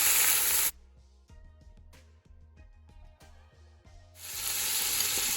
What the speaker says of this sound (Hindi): चिकन हमारी अच्छे से फ्राई हो चुकी है